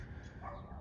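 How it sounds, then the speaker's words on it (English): A dog barks across the street, a short muffled yap heard faintly in the distance over a low background rumble. "I'd like to apologize for the stupid dog across the street."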